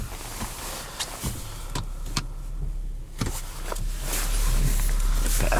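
The electric sunroof motor in a 2019 Infiniti Q70 whirs inside the quiet cabin, with a few clicks and taps, then settles into a steadier, louder hum toward the end.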